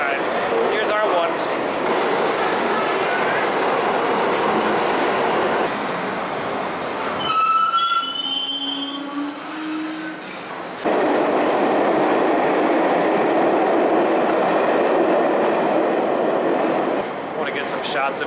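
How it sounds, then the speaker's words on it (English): A New York City subway express train roars through a station on the center track, with a loud rumbling rush and clatter, a brief quieter gap with squeals, then a renewed roar, and voices talking under it. "I want to get some shots of the express trains going through this center track over here."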